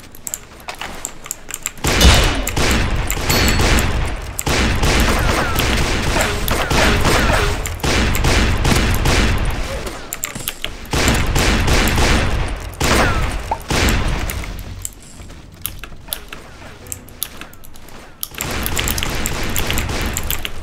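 Rapid-fire revolvers in a multiplayer shooter game, with dense bursts of loud, quickly repeated gunshots in clusters separated by short pauses, close and punchy throughout.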